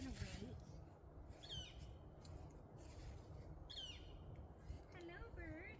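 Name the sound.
bird calling in a garden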